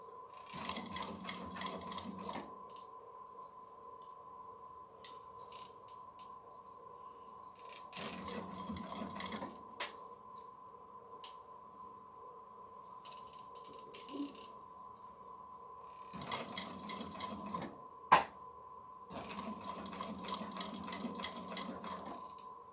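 An electric sewing machine stitches over woven willow strips in several bursts of rapid mechanical whirring, each a few seconds long, with a steady hum and quiet pauses between them.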